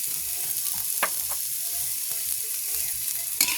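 Food frying in a pan with ground pepper just added, a steady high hiss broken by a few sharp scraping strokes of stirring, close and alone with no voices.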